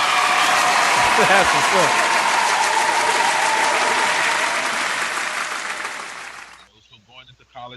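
Studio guests at a radio mixshow break into a round of applause, a dense, loud clapping wash with voices mixed in, fading out near the end as talk resumes.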